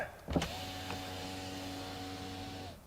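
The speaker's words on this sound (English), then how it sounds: "Do the rear windows go all the way down?" Rear power windows of a Mercedes E-Class motor down in one steady, even electric whir after a short clunk, running for about two seconds before stopping cleanly.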